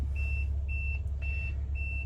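A 2008 Honda Odyssey EX-L wheelchair van conversion gives four evenly spaced high electronic beeps over a steady low idle hum.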